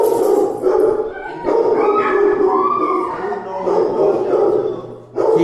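A dog barks, yips and howls repeatedly at close range, its excited calls rising and falling, with people talking in between.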